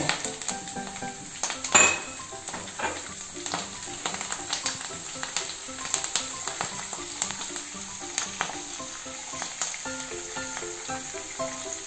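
Mustard seeds, cumin, curry leaves, chillies and chana dal frying in hot oil for a tempering, a steady crackling sizzle with pops and spits throughout, close and moderately loud, with a few utensil clinks.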